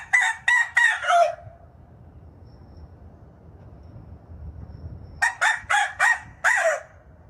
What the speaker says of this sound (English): what if we just say rooster crowing?